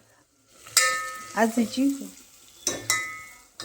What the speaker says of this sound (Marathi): थांबा फोडणी टाकलेली आहे, दाखवते अगोदर.